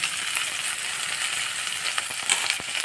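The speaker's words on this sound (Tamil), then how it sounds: "கேப்சிகம் கட் பண்ணி வச்சுருக்கேன் இதை வந்து நம்ம இதில் கொஞ்சம் வதக்கிக்கலாம்" Chopped capsicum sautés in a pan with a steady, bright sizzle throughout, broken by a few faint stirring clicks toward the end.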